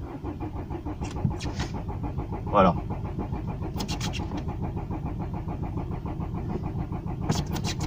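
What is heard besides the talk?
car engine cranking but failing to start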